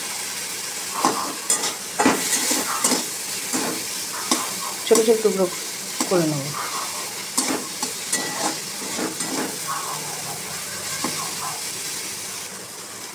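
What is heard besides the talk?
frying shrimp with onion, stirring with spatula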